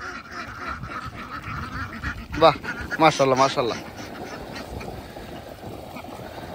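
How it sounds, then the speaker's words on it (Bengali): A flock of farmed ducks on a wetland in Bangladesh quacks in a dense burst, some calls near and loud amid a steady outdoor rumble, while someone speaks before and after the calls. "একটা হাঁসের পাল, ফানান বিল।"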